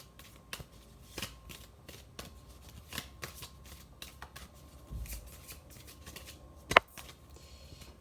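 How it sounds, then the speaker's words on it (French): A deck of oracle cards is shuffled by hand close up, giving repeated quick riffling bursts at an uneven rhythm with a sharper snap near the end, and no talking over it. "Je vais prendre les oracles de l'amour de Dorine Vertu."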